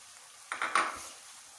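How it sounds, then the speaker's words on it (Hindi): Onions and garlic frying in a pan for chicken korma, a soft sizzle punctuated by a couple of brief stirring clinks and scrapes of a utensil against the pan, near and without talk. "प्याज को हम फ्राई कर लेते हैं पहले। साथ ही हम लहसुन को शामिल करेंगे ताकि ये भी फ्राई हो जाए।"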